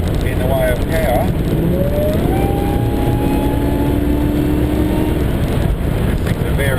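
Supercharged 355 V8 Holden VQ Statesman, about 450 rwhp with a 2.4 Whipple, pulling steadily under acceleration: a loud, continuous engine drone with rising tone, heard from inside the car while someone talks.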